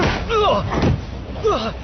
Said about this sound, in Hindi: मैं दरवाजा बंद कर रहा हूँ।